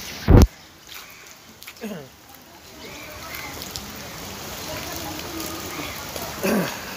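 Rain falls as a soft, steady background hiss during a wet motorbike ride, with a sharp loud knock near the start, a few faint thuds and a brief louder burst toward the end.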